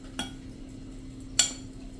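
A spoon stirs spices into flour, giving two sharp scraping clinks against the bowl over a quiet background.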